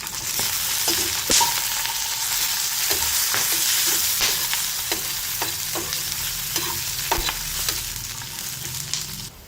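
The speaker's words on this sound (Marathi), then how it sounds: "तेल टाकलं थोडं तर बघू शकता इथे मस्त जिरे तळल्या गेलेले आहे" Cumin seeds sizzle and crackle in a little hot oil on a griddle, with a steady fry and intermittent scraping strokes from stirring.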